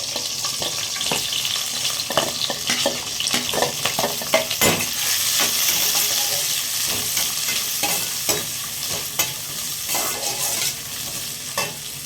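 Onions and green chillies sauté in a hot pan for pattani kuruma, with a constant close sizzle and frying hiss while a spoon stirs and scrapes at irregular intervals.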